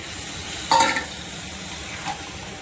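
Ridge gourd drops into a hot oiled pan with a sudden loud burst of sizzling that quickly settles into a softer steady fry, followed by a light clink of a utensil near the end.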